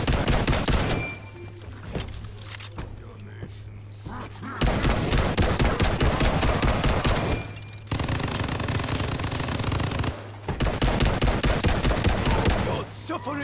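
Rapid automatic weapon fire in Call of Duty Vanguard zombies mode, long loud bursts broken by short pauses, with game effects and a player's voice mixed in.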